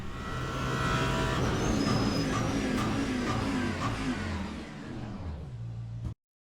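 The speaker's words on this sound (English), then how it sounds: "Let me show you 4 clips of me braking for T1 Monza with 4 different ABS settings" A GT3 race car in the Le Mans Ultimate racing game brakes hard for turn 1 at Monza, its loud engine note roaring and then dropping away as the car slows, before the sound cuts off abruptly.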